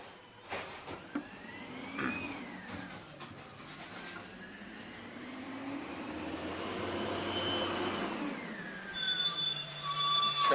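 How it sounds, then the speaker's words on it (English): A garbage truck outside drones and whines, its engine pitch climbing and falling as it works past, moderately loud from a distance, ending in a burst of hissing air. "Sorry about the noise, the trash truck."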